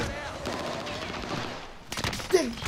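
Gunfire in Call of Duty: Modern Warfare, a rapid burst of automatic shots near the end of a stretch of quieter game ambience, fairly faint overall.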